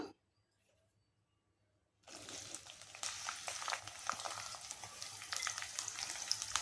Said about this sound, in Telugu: ఆయిల్ కాగింది. ఉల్లిపాయలు వేసుకుందాం.